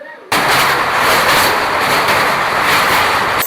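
A passenger express train hauled by a locomotive rushes past up close at night. After a sudden onset, a loud, steady roar of rolling wheels holds throughout, with no talking.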